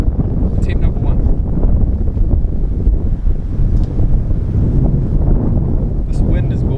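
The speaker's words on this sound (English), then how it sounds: "Now, we'll wait till that wind dies down" Outdoor wind buffets the microphone in a steady, loud low roar that holds for the whole stretch, with faint voices now and then underneath.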